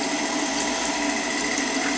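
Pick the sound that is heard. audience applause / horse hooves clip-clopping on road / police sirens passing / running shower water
running shower water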